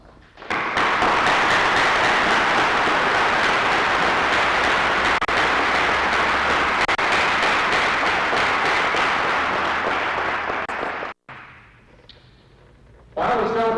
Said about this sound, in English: they deserve one heck of a round of applause